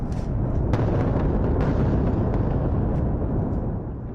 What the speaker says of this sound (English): Loud explosions heard before daybreak Thursday across Beirut